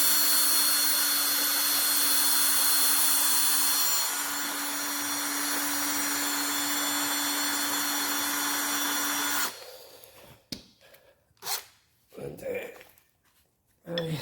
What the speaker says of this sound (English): I always clean them with a deburring tool